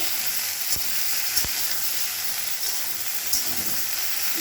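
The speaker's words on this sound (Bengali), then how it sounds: "কড়াইতে তেল দিয়ে ভেন্ডিগুলো আমি ছেড়ে দিচ্ছি।" Okra frying in oil in a kadai, a steady bright sizzle with a few soft knocks of stirring, close and alone with no talk.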